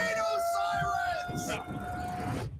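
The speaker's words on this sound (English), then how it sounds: "and storm clouds and tornado sirens" A steady wailing tornado siren holds a long tone in the distance while a crowd murmurs and voices talk over it.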